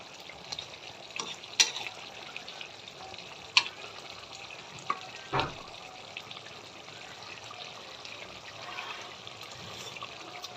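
Fish frying in a pan gives a soft, steady sizzle with occasional sharp spits and a few louder clatters of utensils, fairly quiet and close, with no talk.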